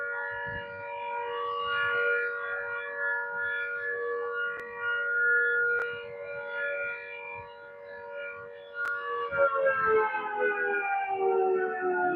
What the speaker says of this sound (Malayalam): രണ്ടാമത്തെ സൈറൻ കൂടി മുഴുകിയിരിക്കുകയാണ്